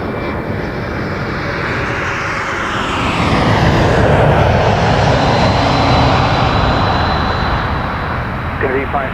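A jet airliner in Trans-Canada livery passes overhead near Toronto Pearson Airport, its broad engine roar swelling mid-pass and then easing, with talk and radio chatter layered over it.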